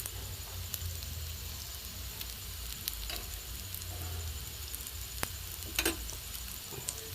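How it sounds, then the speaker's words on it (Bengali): Potato and egg paratha shallow-frying in a little oil, a steady soft sizzle running throughout with a few faint clicks and taps near the end. "হালকা তেলে ভাজা বন্ধুরা"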